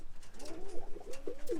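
Roller pigeons coo softly in a low, rolling series after landing together as a flock, with several overlapping calls close by and a steady run of coos throughout.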